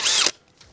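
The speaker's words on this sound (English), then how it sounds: "you just go forward or reverse with the drill" A cordless power drill fitted with a 19mm socket whirs at high speed for about a third of a second, driving a Neo-Dyne motorcycle lifter, then cuts off abruptly, leaving near silence.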